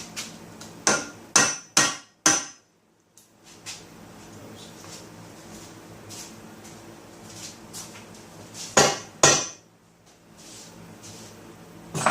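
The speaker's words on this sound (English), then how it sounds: "Now I'm ready to drop the crankshaft." Engine crankshaft dropped onto a piece of wood, heard as a quick run of sharp knocking impacts, a quiet pause, then two more heavy thuds, close and loud against a still background.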